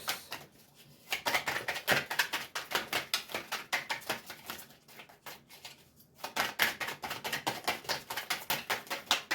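Cards shuffled repeatedly at close range, a steady stream of rapid papery flicks and taps with a brief lull midway.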